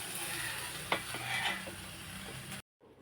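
Tangra fish curry (chorchori) simmering in a pan, a steady close sizzle with a few stirring scrapes and clinks, ending in a sudden cutoff to near silence.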